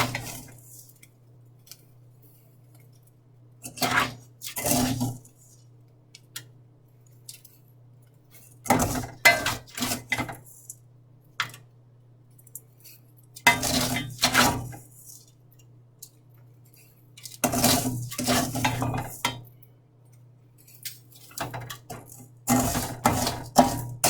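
Heated salt, used for salt ironing, is poured into a bag in several short bursts of gritty, crinkly rustling, with quiet pauses between them and no voices.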